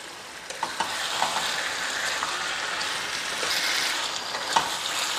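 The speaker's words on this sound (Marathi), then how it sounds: "चिकन मी साधारण 4 ते 5 मिनटं व्यवस्थित परतून घेतलेलं आहे." Steady sizzling of chicken frying in a kadhai, a continuous crackling hiss with occasional sharper pops, no voices.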